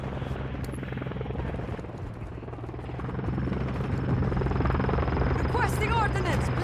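A video game helicopter arrives with a deep rotor thump and a buzzing drone that grows louder and closer partway through. Radio-style game voices are heard over it.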